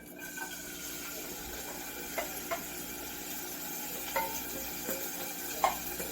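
Red peppers and onions cook in olive oil in a pan over medium heat, giving a faint, steady sizzle with a few soft clicks of a utensil against the pan, with no talking.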